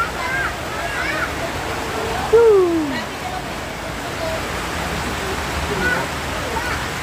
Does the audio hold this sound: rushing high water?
yes